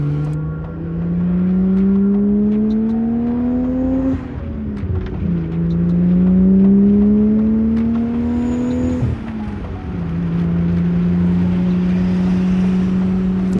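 A car with an aftermarket standalone engine management system revs up loudly through the gears, engine pitch climbing steadily then dropping at each shift, three long pulls close up with no talking.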